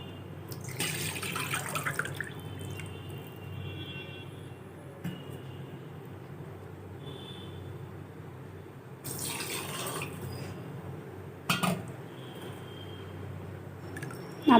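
Water is poured into a pot of seeraga samba rice for mutton biryani, with short splashing bursts of liquid over a quiet kitchen background.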